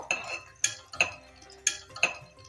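Green chillies are sautéed in oil in a pan, heard as four sharp metallic clinks of a spatula striking the pan at a loose, roughly even rhythm, close and clear, with no talking.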